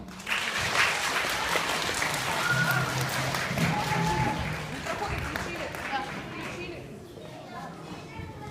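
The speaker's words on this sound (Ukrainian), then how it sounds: "Зустрічайте оплесками Перший А клас зі своїм сонячним виступом." An audience at a school festival applauds a first-grade class performance with steady, dense clapping mixed with chatter and children's voices, fading toward the end.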